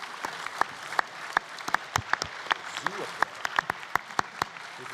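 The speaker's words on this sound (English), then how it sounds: "let's have a round of applause for both teams" Sparse clapping from an audience at a high school science competition, a scattered patter of individual hand claps with uneven rhythm, moderately distant and thin rather than a full ovation.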